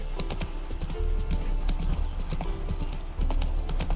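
Roach the horse trots in The Witcher 3, hooves clip-clopping in a quick, even rhythm, close and clear with a brief pause partway through.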